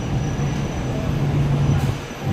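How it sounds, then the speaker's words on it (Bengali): A driverless two-coach metro train runs along, heard as a loud, steady rolling rumble with a low droning hum and no pauses. "মাত্র 2টো কোচের ট্রেন"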